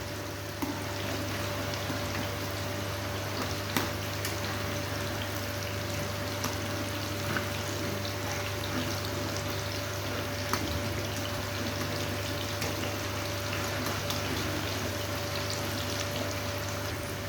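Sponge gourd fritters frying in hot oil in a pan, giving a steady, even sizzling hiss that holds unchanged throughout, with a few faint pops and no voices.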